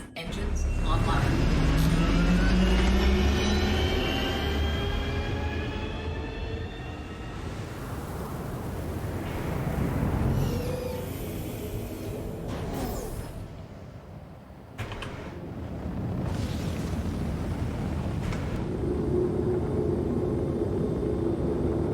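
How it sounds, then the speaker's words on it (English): Anvil Hurricane spaceship engines starting and running in Star Citizen, rising whines and hums that shift in pitch, with mechanical clunks and hisses over a loud steady drone. "Right, and engine on. Engines online."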